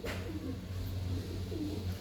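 Pigeons coo steadily at a pigeon seller's stall in Andhra Pradesh, a low, continuous throaty burbling from several birds close by, with no talking.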